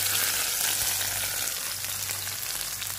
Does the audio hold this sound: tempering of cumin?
yes